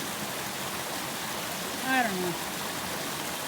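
A loud river rushes beside a campsite on a hiking trail, a dense steady roar of flowing water filling the background while someone speaks briefly over it.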